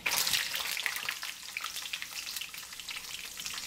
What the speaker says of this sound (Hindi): बादाम डालकर हमने बादामों को हमने थोड़ा सा फ्राई करना है।